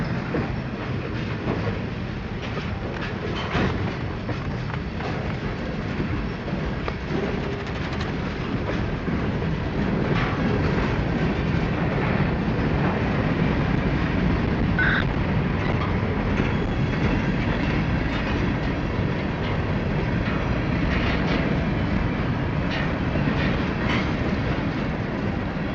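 A freight train rolls along a connection track onto the main line at a Florida junction, with a sustained rumble, rhythmic clickety-clack of wheels over rail joints and occasional faint squeals, fairly close and steady.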